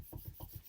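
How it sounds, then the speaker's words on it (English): Hands rubbed briskly together during a beginner exercise session, a quick steady rasping swish repeating several times in under a second, close and alone. "Rub your hands together."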